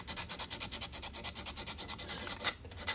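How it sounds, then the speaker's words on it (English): Sandpaper rubs back and forth over a metal boxcar jaw harp in quick, even strokes, a soft rhythmic scratching close by and alone. "I tend to use sandpaper and just continue to polish off any edges"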